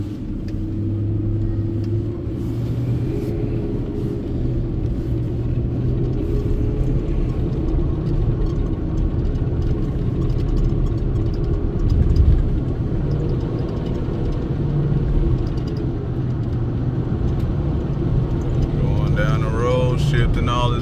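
Ford F-150 pickup engine, a rust-bucket truck, rumbles at idle with low steady throb and a slight rise midway, running continuously while people talk over it.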